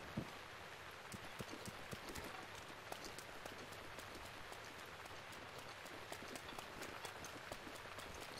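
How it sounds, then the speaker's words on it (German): Rain pattering in Zelda: Breath of the Wild, a faint, even wash of falling drops with scattered sharper ticks, continuous for several seconds and alone. "Ich sehe durch den Regen, ist halt extrem schlecht."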